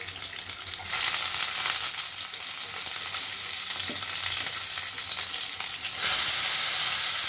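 Mustard and cumin seeds, sliced capsicum and long-cut green chillies sizzle steadily in hot oil, a loud continuous fry with a brief surge partway through.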